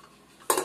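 Metal cooking pots and lids with adjustable vent knobs handled in a kitchen, one short clattering clank of metal on metal after a quiet moment, close and fairly loud.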